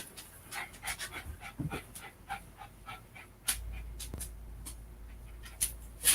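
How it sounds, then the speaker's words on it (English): A dog pants in quick, rhythmic breaths close by, with a few louder clicks and thumps scattered among the soft huffs. "There's the dog panting again."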